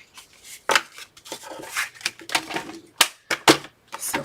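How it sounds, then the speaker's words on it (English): Paper being cut and scored for a folio, a quick irregular series of sharp crisp snips and scrapes with brief gaps between strokes, close and fairly quiet. "let's go ahead and cut and score"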